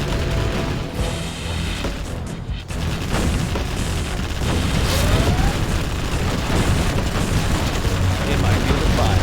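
Explosions and gunfire in the Command & Conquer Generals war strategy game, with a dense, loud, continuous barrage of booms and battle noise and occasional unit voice lines.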